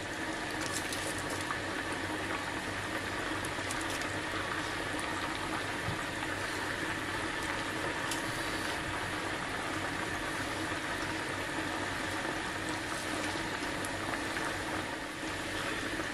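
Steady, dense sizzling and bubbling of dough frying in hot oil, continuous and close throughout with no voices.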